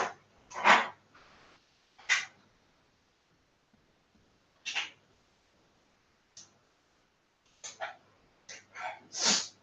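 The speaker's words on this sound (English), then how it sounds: "This sneeze is killing me, bro." A man sneezes and snorts several times in scattered short bursts across a quiet indoor stretch, close to the microphone, with soft clicks in between and no speech.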